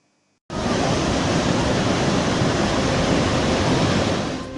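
The Tambadi river at Vikramgad in Palghar, swollen by heavy rain, rushing in flood: a dense, loud, unbroken roar of churning water that begins abruptly after half a second of silence and holds steady.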